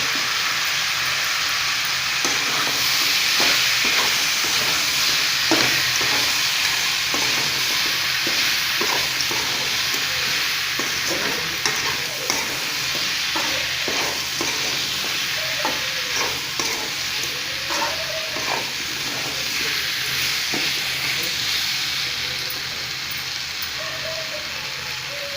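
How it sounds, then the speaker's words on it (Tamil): Cauliflower and potato fry with chilli powder being stirred and sautéed in a pan, a steady loud sizzle with repeated scraping and stirring clatter throughout, no voices. "இப்போ நல்லா வணக்கிக்கலாம்."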